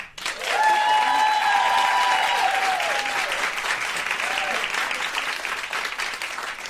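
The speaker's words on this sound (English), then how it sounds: "Please clap now." A live audience at a comedy podcast show applauds loudly and steadily for several seconds, a dense wash of clapping with some cheering that slowly fades toward the end.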